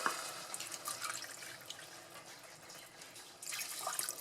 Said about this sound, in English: Now we're gonna add the water.